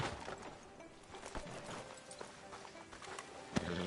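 Horse hooves clip-clop on a town street outside a sheriff's office in the video game Red Dead Redemption 2, quiet irregular footfalls with faint background ambience and a sharper knock near the end.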